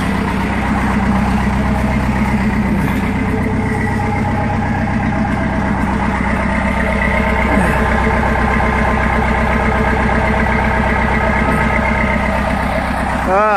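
A Cummins 4BT diesel with no glow plugs or grid heater starts cold and settles into a loud, steady, rattly idle close by, with faint voices under the engine.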